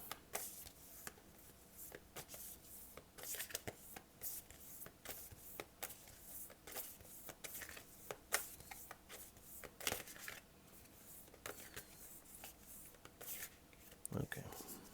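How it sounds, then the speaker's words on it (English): A deck of oracle cards is shuffled by hand, producing soft, irregular riffling and slapping bursts with sharper snaps scattered across a quiet room, while a person talks intermittently. "I shuffle these until one refuses to shuffle in or one stands riding high"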